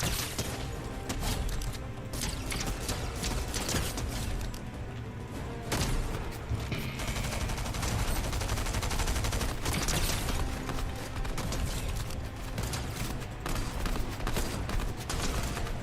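Rapid semi-automatic sniper rifle fire in an online gun-game shooter, dense bursts of sharp shots and crashing impacts running almost nonstop, loud and close with brief lulls.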